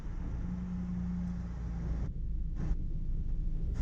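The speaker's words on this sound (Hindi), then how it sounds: "हमारी गाड़ी देखो आप बढ़ने लगी" A car on a driving-school practice drive pulls forward as the clutch is released: a steady low engine rumble that dips and shifts about halfway through, then carries on evenly.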